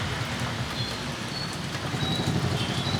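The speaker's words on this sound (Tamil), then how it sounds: "மழையாக்குது" Steady rain falls outdoors, a dense, even hiss of drops on surfaces that carries on throughout with no talking.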